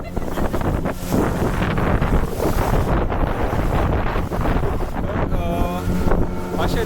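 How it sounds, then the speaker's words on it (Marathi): Sea waves break and surge along the Konkan coast near Vengurla, a continuous loud roar buffeted by heavy wind on the microphone, with a faint voice or two under the noise. "लाटा पळोवया आमी."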